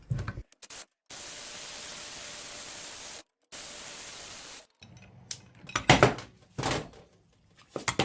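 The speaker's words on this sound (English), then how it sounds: "It was pretty corroded, but that puller got it off" A power steering puller works a corroded pulley off a 1968 Chevy C20 pump, giving long steady hissy bursts and then several loud, close metallic clanks and scrapes in a short irregular cluster.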